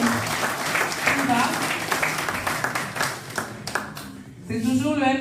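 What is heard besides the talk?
audience applause for an introduced guest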